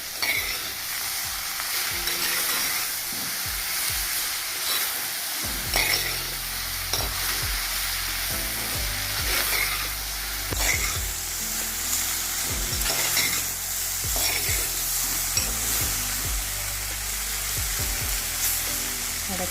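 Okra (vendakka) sizzles steadily as it is stir-fried in a pan, with repeated scraping and clacking of a spatula against the metal, close up and continuous.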